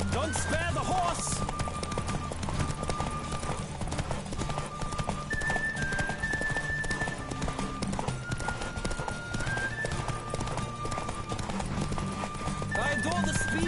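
Rapid, rhythmic hoofbeats of a galloping horse in a horse race in The Witcher 3 video game, continuous and loud, with a horse whinnying at the start and voices talking over the top.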